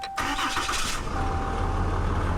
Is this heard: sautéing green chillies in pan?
no